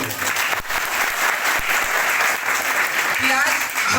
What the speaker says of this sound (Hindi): जोरदार तालियों से कविता का अभिनंदन करिए।